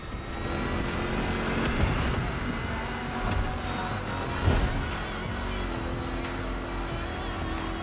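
A rally-raid prepped Mustang GT in a racing video game drives with a steady, continuous engine drone and road rumble, with a few brief surges as it moves along.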